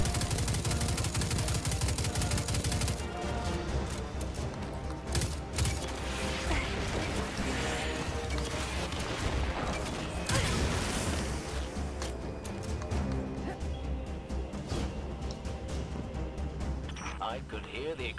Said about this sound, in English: I could hear the explosions all the way back here.